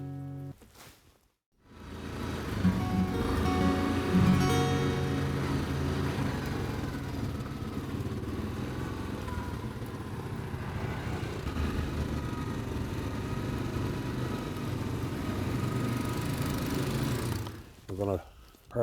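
Motorbikes idle steadily at a moose hunting spot on a southern shore, a continuous mid-pitched engine putter running for most of the time, fairly close, with voices talking over it before cutting off near the end.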